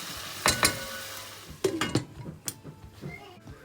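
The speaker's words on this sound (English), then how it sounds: "on a slow heat, I will let it simmer for about 2 minutes" Chicken curry simmering over low heat in a pot, with a soft, steady cooking murmur under a few sharp clinks and scrapes of a spoon stirring against the metal.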